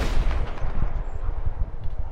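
Gunshots in Red Dead Redemption 2, a rapid run of heavy, booming reports close together across a couple of seconds, loud and unaccompanied by talk.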